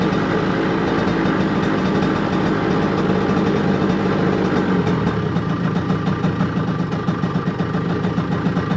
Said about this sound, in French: vous voyez, j'ai un ralenti correct